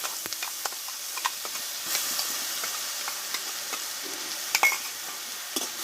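Carrot paste fries in ghee in a pan, giving a steady, close sizzle with light stirring scrapes and soft ticks throughout, no voices.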